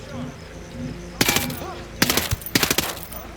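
Machine gun fire from the Ghost Recon Breakpoint video game comes in three loud, rapid bursts, each a dense rattle of shots cutting through a quieter background of game ambience.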